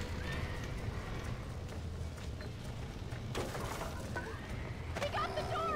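Horses in a burning barn in a video game, neighing and whinnying in several sharp cries with clip-clopping hooves beneath, heard over a crackling background din.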